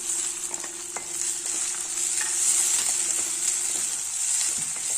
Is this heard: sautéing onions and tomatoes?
yes